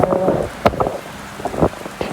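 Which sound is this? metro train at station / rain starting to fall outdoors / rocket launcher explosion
rain starting to fall outdoors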